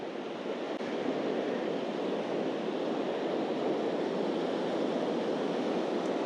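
Ocean surf breaks and washes up a beach in a continuous loud, hissing roar with no pauses and no voices.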